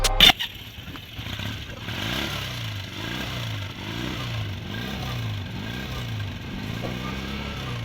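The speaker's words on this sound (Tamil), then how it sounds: "இந்த பைக்கை நாங்கள் ஸ்டார்ட் பண்ணி அதோட சவுண்ட் எப்படி இருக்குன்றதை பார்ப்போம்" Honda CD 125 motorcycle kicked into life with a sharp clatter, then settling into a steady, rhythmic low idle that putters on evenly nearby.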